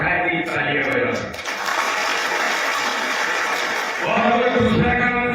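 Audience at a political gathering claps, a steady broadband wash of applause that dips briefly and then carries on under someone speaking.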